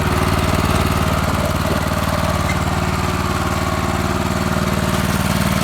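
A tracked snowblower runs steadily in slow gear as it crawls up a slope, its engine droning loud and close with an even, continuous vibration throughout.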